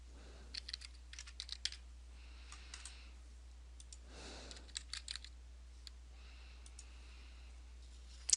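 Typing a username and password on a computer keyboard: faint, close key clicks in short irregular bursts with pauses between them, over a quiet low hum.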